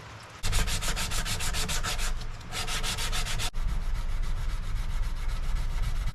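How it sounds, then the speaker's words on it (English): Steady rubbing strokes as a knife guard is wet sanded with 150-grit abrasive, loud and close, in rhythmic back-and-forth passes with a brief pause, then a continuous scrub. "we're gonna sand down the guard."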